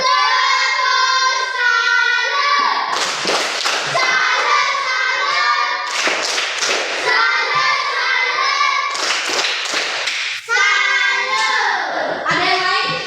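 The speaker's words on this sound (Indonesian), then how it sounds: "tepuk tangan dulu untuk Indra." Rhythmic clapping for a student named Indra in a classroom, loud bursts of claps arriving in a steady beat, mixed with children's voices chanting along throughout.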